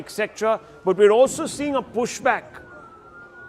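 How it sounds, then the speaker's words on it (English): An air raid siren sounds across Tel Aviv, a faint steady wail in the background under a man's speech, then heard alone for a moment as he pauses. "air raid sirens, you can beginning to hear them, friends, you can hear them in the background."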